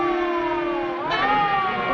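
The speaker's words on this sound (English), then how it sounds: "It's a siren." A wailing siren sweeps up and down in pitch, loud and sustained, with no voices over it.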